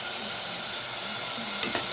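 Onions sizzle and hiss steadily in hot oil for mutton head gravy, a continuous close frying sound with a brief stir or clink near the end.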